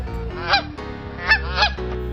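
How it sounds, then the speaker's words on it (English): Loud, nasal honking calls from cartoon ducks repeat several times over a steady background hum, close and insistent. "Orange duck. Orange duck."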